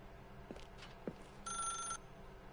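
A telephone rings in The Stanley Parable, a bright electronic trill lasting about half a second, preceded by a few soft clicks and thumps.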